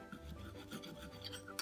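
A spoon scraping and rasping against a container while stirring thick instant coffee paste, giving a short run of close, gritty rubbing strokes.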